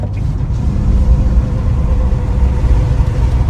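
With a window down, a 2018 Ford F350 fitted with compound turbos drives along, its deep engine rumble mixed with road and wind noise in a steady, close roar.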